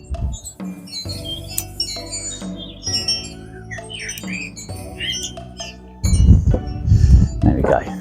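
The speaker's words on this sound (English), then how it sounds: "The birds are picking up now as well." Birds squawk and chirp back and forth in a garden, with scattered bright calls throughout and a louder, busier burst near the end, partly mixed with other background noise.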